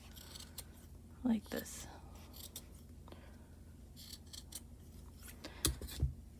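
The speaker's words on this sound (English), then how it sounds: "use sharp scissors, but be very careful. You don't want to cut your hand. You're just going to go around and cut" Sharp scissors snip through yarn while a pom pom is being trimmed. Crisp, close cuts come in pairs, early and again near the end, with soft, low speech between them.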